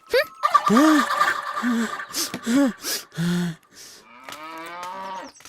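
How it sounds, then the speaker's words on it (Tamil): Several drawn-out cow moos with falling pitch, loud and close, repeating in a loose rhythm, with people talking over and between them in a Tamil film scene. "இது பசுமாடு"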